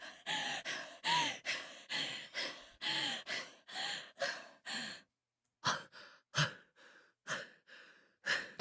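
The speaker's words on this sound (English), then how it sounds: "I love how we need to hear everyone panting every time" Several characters in the Zero Escape video game pant and gasp in quick, repeated breaths, loud and close. A short pause breaks the run, then more breathy sighs and gasps follow alone.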